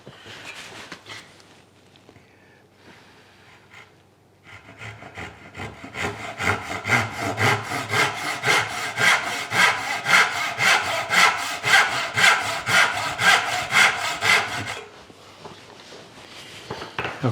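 Hand saw cutting a dovetail joint in a wooden board with a mitered edge, a few tentative strokes and then a steady run of rhythmic back-and-forth rasping strokes, close and clear.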